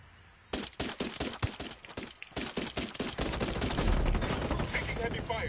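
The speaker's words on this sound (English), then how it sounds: "Taking heavy fire" Rapid bursts of gunfire in an online shooter video game, sharp shots cracking in quick succession, thinning out and giving way to a dense rumble of continuous fire and explosions.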